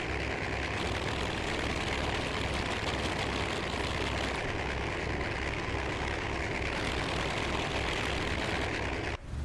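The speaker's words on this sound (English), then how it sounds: "You hear other aircraft there as well." Aircraft engines drone continuously in Microsoft Flight Simulator, a loud, broad rumbling roar of World War II warbirds that holds steady for the whole stretch before dropping off abruptly at the end, with no talking.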